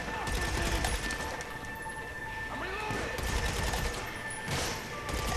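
Gunfire in Grand Theft Auto V Online on a hard-difficulty Hard Labor mission: a continuous, dense stream of shots and crackling blasts fills the whole stretch, loud and busy, with no voices over it.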